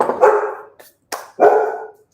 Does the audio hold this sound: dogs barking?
yes